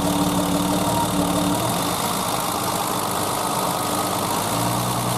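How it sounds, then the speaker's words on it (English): A 1988 BMW E30 car engine running at idle, a steady loud mechanical hum with a slight pitch shift partway through as the revs settle, with no talk. "I'll start the engine."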